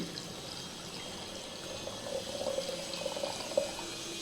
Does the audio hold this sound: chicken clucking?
no